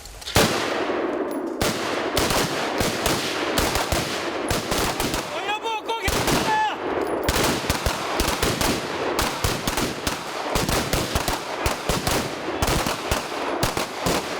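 Rapid, loud bursts of machine rifle fire alternating with pistol shots during live shooting training for a naval special forces anti-piracy unit, dense overlapping cracks filling the whole stretch with a short lull midway.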